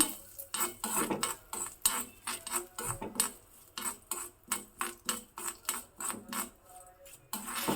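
Horse gram roasts in a pan while being stirred, a spoon scraping and rattling the grains in a steady rhythm of repeated close strokes, roughly two per second.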